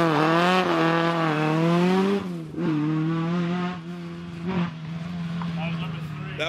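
A rally car engine drones steadily at a marshal checkpoint, its tone dipping and rising with throttle changes, close and loud, while a voice talks over it.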